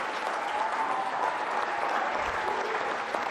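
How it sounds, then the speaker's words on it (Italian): Studio audience applauds an athlete on a sports program, a sustained, even patter of many hands clapping at moderate volume throughout. "Facciamo un bel applauso a Lisa"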